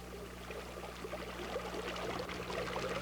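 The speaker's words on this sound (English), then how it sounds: "The babbling brook, for example, actually Beaver Creek, meandering its merry way right through this valley." Beaver Creek babbles steadily through a snowy valley of spruce trees, a soft continuous wash of flowing water with a faint low hum beneath it.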